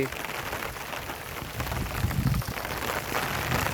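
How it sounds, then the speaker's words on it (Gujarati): A steady, dense wash of rain, loud and continuous, with low rumbling gusts and a voice faintly underneath. "વરસાદની ખૂબ મહેર છે, મેઘરાજા ખૂબ મંડી ગયા છે"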